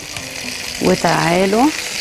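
Vinegar with ginger boils in a pan while teriyaki chicken is being made. A steady, close sizzle and bubbling runs throughout, with a brief voice speaking over it.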